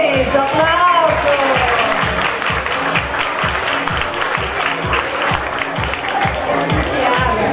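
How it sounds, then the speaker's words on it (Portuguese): Audience applause at the adult-category Miss and Mister Amparo 2015 pageant, a steady, loud wash of many hands clapping that carries through the whole stretch with a faint crowd murmur beneath. "Parabéns, aplauso."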